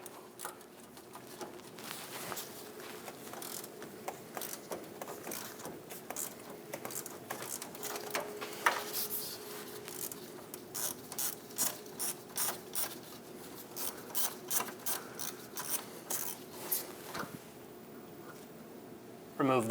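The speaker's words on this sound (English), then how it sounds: "We have an 11mm bolt we have to remove. Using an 11mm socket." A ratchet with an 11mm socket clicks in quick, irregular bursts as it loosens the steering shaft clamp bolt on a Chevrolet Express 2500 van, fairly close and moderately loud over a low background hum.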